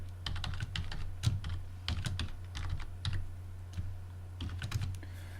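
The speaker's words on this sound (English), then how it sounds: "Type in your password." A password is typed on a computer keyboard, with clusters of quick, close key clicks in irregular bursts over a steady low electrical hum, no voices.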